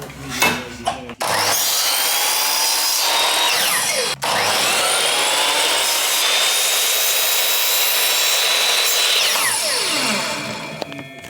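A power saw cuts through pine timber pieces for picture-frame wainscoting paneling, one long continuous loud cut with brief pauses at the start and midway, close and alone.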